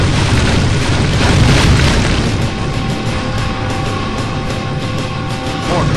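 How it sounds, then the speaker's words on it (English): Mortar fire in the PC game Kingdom Under Fire Heroes, a loud, continuous rumbling barrage of booms and blasts that fills the scene without pause. "Mortars away!"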